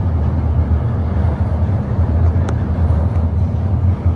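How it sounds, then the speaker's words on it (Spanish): A tram rumbles across a bridge in Porto, a loud, continuous low roar with a brief metallic squeal, heard outdoors up close amid wind. "pasando el tranvía."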